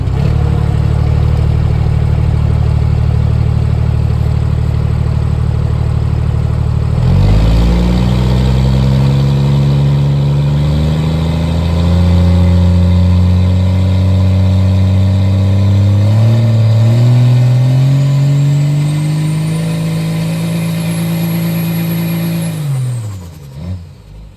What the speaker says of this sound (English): you can see when I grabbed the nitrous, got a little heat in the motor, spooled it up real hard, grabbed the button, and it absolutely came to life